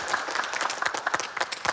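Employees at a store opening break into applause, a dense, steady burst of many hands clapping close by for a couple of seconds with no talk over it.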